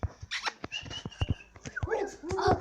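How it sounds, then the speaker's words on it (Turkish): A dog whimpers and whines indoors in a house, high thin cries with short yelps and scuffling, close and fairly loud. "Arkadaşlar evde bir köpek var."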